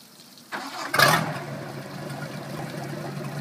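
A 1997 Crownline boat engine is started while being rinsed after an ocean trip, cranking briefly then catching into a steady low idle that continues, fairly close and moderately loud.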